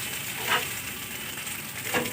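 Potatoes go into a pan where egg has been frying for chowmein, producing a faint, steady sizzle with two brief louder bursts of frying and stirring.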